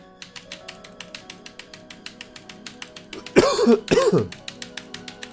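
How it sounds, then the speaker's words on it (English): A person coughs twice in quick succession during an indoor livestream, sharp and close, over a steady rhythmic tapping of buttons or keys that runs throughout the clip. "somehow I have to cough all the time"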